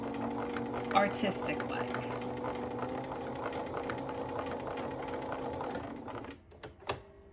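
A Bernina Activa sewing machine stitches fabric in a fast, steady chattering run that stops near the end, followed by a couple of sharp clicks; a person speaks briefly over it.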